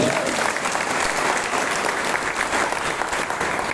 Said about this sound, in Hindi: एक बार जो नहीं ताली बजाएगा उसके लिए ताली बजाइए।